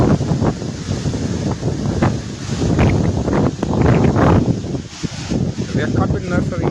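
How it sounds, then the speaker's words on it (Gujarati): Strong storm wind roars continuously against the microphone during a cyclone with rain falling, with gusts swelling and buffeting throughout. "પવન"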